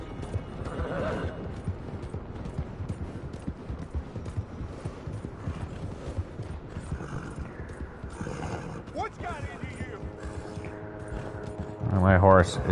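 A horse gallops in the Red Dead Online video game, steady rapid hoofbeats running throughout with a whinny, layered over constant game ambience and a brief louder burst near the end.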